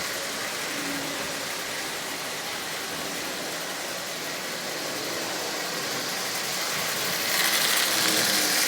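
A Marx Commodore Vanderbilt toy locomotive with a double-reduction motor pulls ten Lionel cars around the track at half power, making a continuous whirring, rattling mechanical hum that grows a little louder toward the end.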